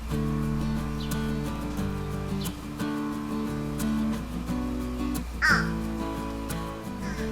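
Fish crows caw repeatedly around a birdbath, nasal calls scattered over a steady low background hum, some close and loud, others fainter, with no talking.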